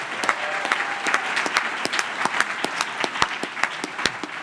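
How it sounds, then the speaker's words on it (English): An audience at a congressional candidate forum gives moderate applause: scattered, distinct claps in an uneven rhythm, fairly close, with no talking. "and yes, round of applause"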